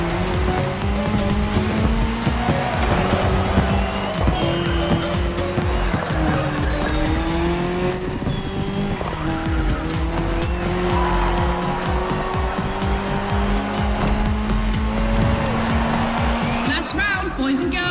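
Rally cars race in The Crew Motorfest's Red Bull Speed Clash, led by the Ford Puma Hybrid Rally 1 electrified rally car. A loud, continuous engine drone shifts pitch steadily, with tire squeal and sharp clicks throughout.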